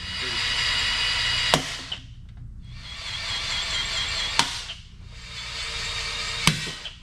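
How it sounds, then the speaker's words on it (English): A drill whines in three bursts, each ending in a sharp pop as a head bolt head snaps off on an overheated Toyota 2AZ-FE engine, followed by a brief pause before the next. "when I finally drill through just the head, it'll snap and it makes this fantastic popping noise"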